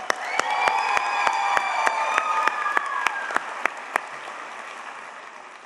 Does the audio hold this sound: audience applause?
yes